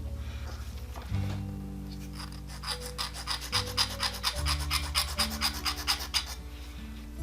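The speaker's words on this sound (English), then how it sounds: "I'm going to file a bunch" Rhythmic rasping strokes of a file scraping a small Hot Wheels die-cast toy car body, repeated steadily up close over a low background hum.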